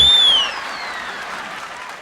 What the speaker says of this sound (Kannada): ಒಳ್ಳೆದ ಚಪ್ಪಾಳೆ ಬಡಿರೋ